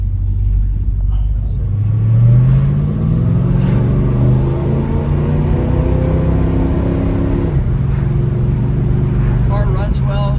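A 1969 Dodge Dart with a 340 V8 runs close by with a deep, strong rumble, its engine revving up in smooth rising swells and settling back to idle, with someone talking over it.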